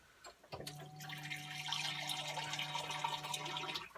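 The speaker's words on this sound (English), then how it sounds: "I think I'm going to put a bit more water in that" Cold water poured from a jug into a pot of potato, leek and onion soup in a campervan kitchen, a soft splashing rush starting after a brief click and running steadily until it stops.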